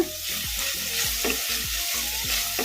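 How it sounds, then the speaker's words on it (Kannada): Spinach and chillies frying over a medium flame in a pan, a loud close sizzle with regular stirring strokes that scrape through it, with no voices. "ಇವನ್ನೆಲ್ಲ ಮೀಡಿಯಮ್ ಫ್ಲೇಮಲ್ಲೇ ಫ್ರೈ ಮಾಡ್ಕೋಬೇಕು ಇದನ್ನು ಈ ಥರ ಕಲಿಸ್ಕೊತಾನೆ ಫ್ರೈ ಮಾಡ್ಕೋಬೇಕು"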